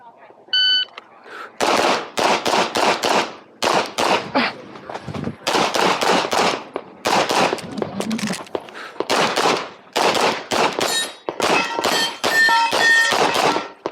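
Rapid strings of loud, close pistol gunshots ring out at a USPSA Limited-division pistol match at the 2025 nationals, in dense bursts separated by short pauses, with a brief voice near the start.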